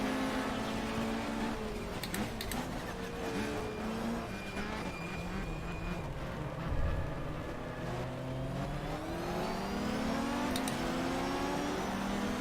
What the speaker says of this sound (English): just look at the raw grunt of the BMW as he pulls away on the straights